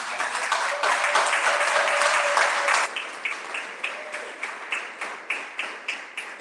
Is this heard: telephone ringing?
no